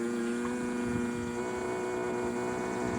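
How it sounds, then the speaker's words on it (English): A 12-volt water pump in a homemade off-grid air conditioner runs with a steady low hum and faint grinding rumble, quiet and continuous, with no talking. "I'm just going to turn on the water pump so you can see it and hear it"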